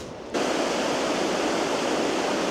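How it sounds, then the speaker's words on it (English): A river running high after a storm rushes loudly and continuously, a dense, steady roar of fast water that cuts in abruptly and holds without voices. "River running a wee bit high after Storm Dave."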